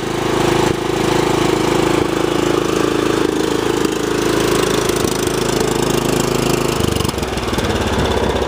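A Craftsman R1000 riding lawn mower engine runs loud and close at a steady, throbbing high idle, then drops to a lower, rougher pitch near the end, with no talk over it.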